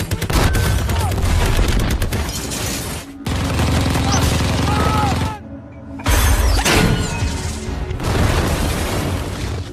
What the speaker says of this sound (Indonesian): Norman akhirnya sudah memberanikan dirinya untuk menembaki lawan-lawannya